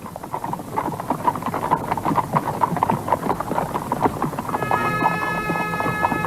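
Hooves clip-clopping at a steady walking pace on a hard surface, fairly close, with a faint ringing tone entering toward the end.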